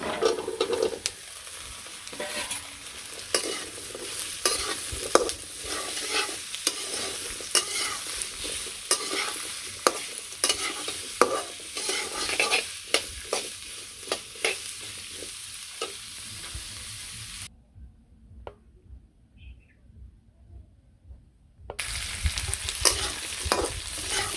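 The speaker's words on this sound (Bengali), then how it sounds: "পেঁয়াজ ভেজে নিলাম একটু লাল লাল হয়েছে এখন আলু দিয়ে দিই" Potatoes fry in hot oil with browned onions in a village kitchen, a loud steady sizzle with repeated scraping stirs that drop away briefly for a few seconds before returning, and no one speaks.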